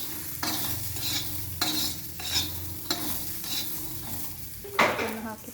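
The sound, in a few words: frying tomatoes in oil with salt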